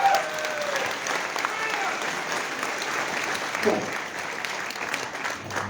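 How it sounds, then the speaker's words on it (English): An audience at a public political meeting in Christchurch claps steadily, a continuous mid-level patter of many hands filling the room, with faint voices mixed underneath. "Give us a clap for that."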